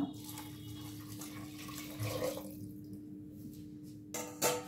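Water poured into a pressure cooker, three cups for soup, a close, quiet gush and trickle that stops, followed by a faint clink at the end.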